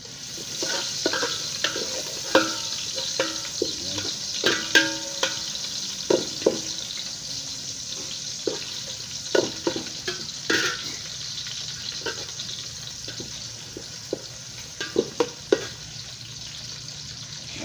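Garlic and ginger fry in a pan for chicken adobo, a soft continuous sizzle broken by frequent sharp clicks and scrapes of stirring, close and alone with no talk.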